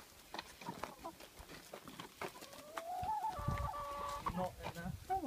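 A rooster being chased and caught in a chicken and duck enclosure gives short clucks and squawks that rise into a louder, sustained, agitated call near the end, alongside rustling and scuffling close by.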